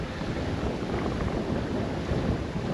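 Wind rumbles and buffets the microphone at a resort pool area in the Maldives during windy, rainy weather, a constant loud low roar with no talking.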